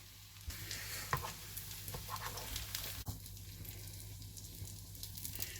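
Potato cutlets sizzle steadily in a pan with a soft, even crackle and occasional sharp pops and clicks. Fairly quiet and close, with no voices.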